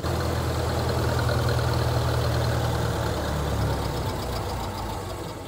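Very old car engine running steadily and close, a rough low mechanical drone with a knocking throb that eases slightly toward the end, no talk over it.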